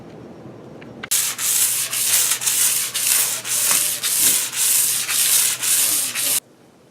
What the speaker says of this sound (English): I'm going to sand it, do a light sanding